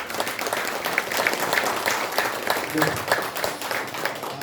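Audience applause at a Korean commemorative launch ceremony as a guest, the head of a humanities research institute, is welcomed; steady clapping throughout with voices mixed in.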